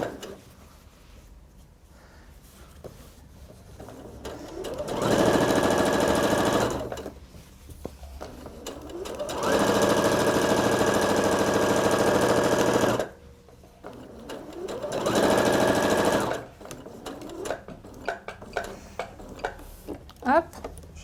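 A sewing machine stitches fabric to make gathers, running in three long, loud bursts separated by pauses in which someone talks and handles the fabric.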